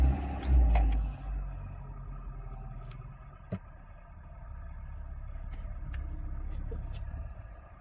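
A cold Lada Niva Legend engine, which has knocking at 20,000 km, is started: a brief crank and catch, then a low idle rumble settling in, with a few faint clicks and a voice speaking.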